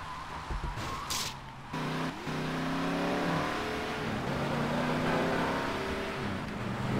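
A car engine in GTA Vice City revs and accelerates steadily, loud and close, with a short gear-shift dip early on before a sustained drone.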